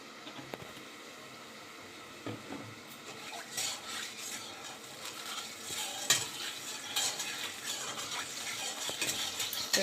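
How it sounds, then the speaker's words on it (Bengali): Cut vegetables stirred in a pan while oil heats, close scraping and clinking of a utensil against the pan over a soft low sizzle, growing busier toward the end, with no one speaking. "তেলটা গরম হোক, ততক্ষণে এই সবজিটাকে একটু নাড়িয়ে দিই।"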